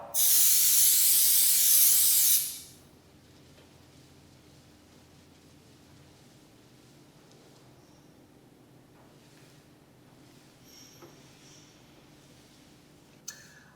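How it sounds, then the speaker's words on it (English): A few seconds of strong, steady spray from a bottle of isopropyl alcohol cleaner misting onto a car's surface, loud and close, then cutting off into quiet room tone. "I'm now going to use our second stage of cleaning, which is our isopropyl alcohol"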